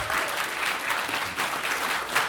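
A convention audience at a live furry-convention show claps for the staff, sustained applause with rhythmic pulses of clapping throughout.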